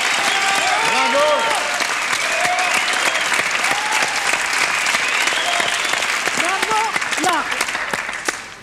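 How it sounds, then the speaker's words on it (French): A French television game-show studio audience claps steadily and loudly for the full stretch, a dense wash of applause that tapers slightly at the end, with a host's voice speaking over it. "Applaudissez Laurent Baffy"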